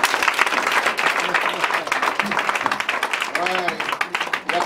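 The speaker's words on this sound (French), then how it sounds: "On acclame Jésus" Church congregation applauding and acclaiming Jesus: sustained rapid clapping from a crowd, mixed with loud voices calling out and a singing or shouted tone rising toward the end.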